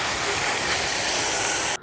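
Water sprays steadily onto a BLUETTI AC60 portable power station with its waterproof outlet caps closed, a loud continuous hiss that cuts off abruptly near the end.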